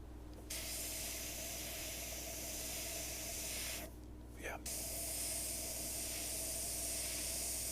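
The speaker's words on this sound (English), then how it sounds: "And then grab the airbrush" An airbrush sprays paint in a continuous close hiss that stops for about half a second before resuming steadily, with a brief low hum underneath.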